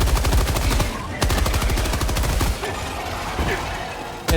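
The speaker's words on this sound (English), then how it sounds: "I'm going to go back to the machine gun" A machine gun in the Helldivers 2 video game firing rapid, evenly spaced full-auto bursts, loud and close, with a brief pause near the start and a trailing stutter toward the end.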